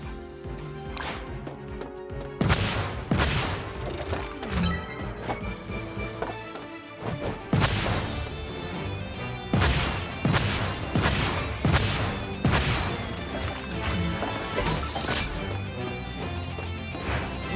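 Rockets fire and burst in Rocket Arena, a run of sharp, loud impacts and blasts coming in quick bursts over a steady game music bed, no voices.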